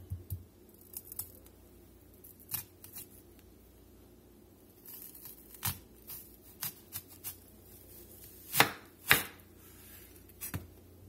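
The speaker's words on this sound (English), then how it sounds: "We're going to make about 1/4 inch cuts down this onion to get us some nice rings" Knife slicing a sweet onion into quarter-inch rings on a cutting board, scattered crisp cuts and taps spaced irregularly, with two sharper loud chops near the end, close and without talking.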